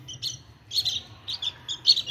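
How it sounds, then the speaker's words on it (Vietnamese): Three baby birds in a nest give short, high chirps in quick irregular bursts, fairly close and clear over a faint low background murmur. "Đây còn ba chú chim non."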